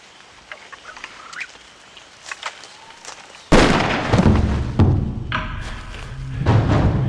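Gunfire in World War II combat, distant faint cracks and bird chirps first, then a sudden loud close blast followed by further heavy shots and rumbling echoes.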